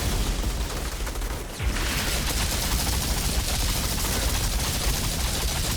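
Rapid, sustained gunfire from Ashen bullets in a video game, a dense roaring stream of shots with a brief dip before the barrage swells again, loud and without talk.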